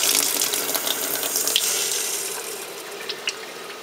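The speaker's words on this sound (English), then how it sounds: "I'm going to turn it on." Water runs steadily from a reverse osmosis faucet fitted with a diverter on a Hydrologic Stealth 300 unit, a continuous close hiss of flow with no talk.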